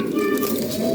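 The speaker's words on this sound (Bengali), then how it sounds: "বিশাল সাইজের কবুতর" A large European Lahori pigeon coos in a low, soft, rolling burst, close by and alone.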